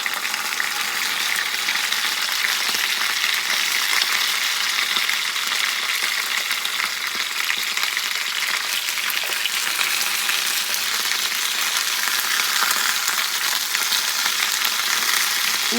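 Potatoes fry in a pan for a cheesy potato bake, sending up a constant, even hiss of sizzling oil that carries on without a break, with no voices.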